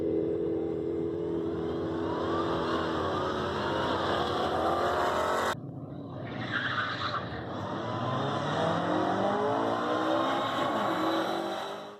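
A supercharged 3800-swapped Pontiac Fiero launches hard from 0 to 60 on the street, its engine roaring loud and steady, cutting briefly before rising again as the car pulls away, with a whining, squealing edge.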